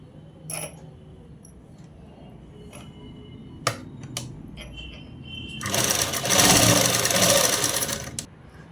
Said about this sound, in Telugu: లూజ్ కుట్టు పెట్టేసి స్ట్రైట్ కుట్టు వేసుకోవాలి.